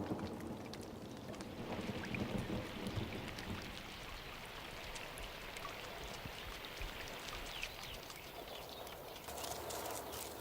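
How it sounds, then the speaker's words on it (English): A late summer thunderstorm on the Kalamaili steppe brings steady, dense rain hissing evenly throughout, with a faint low rumble underneath and no voices. "A late summer storm breaks Kalamaili's season of drought."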